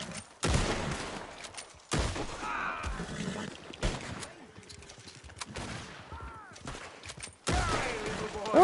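Gunfire in a GTA video game comes in several loud, booming bursts spaced a few seconds apart, each fading out, with brief voice-like sounds between them.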